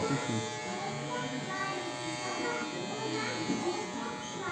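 Electric hair clipper buzzes steadily and close during a child's haircut at a children's hair salon, with people talking over the hum.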